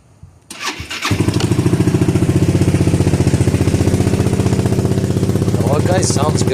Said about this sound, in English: I'm going to start it up right now for you to hear.